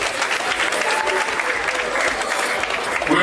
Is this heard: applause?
yes